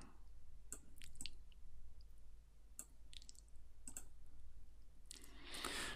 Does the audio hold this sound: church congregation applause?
no